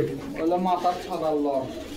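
Pigeons coo in low, rolling calls at a busy pigeon market in Bangladesh, where giribaz pigeons are sold, with people talking close by throughout.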